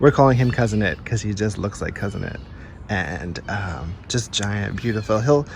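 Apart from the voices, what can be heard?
No distinct noise like a dog, phone or traffic.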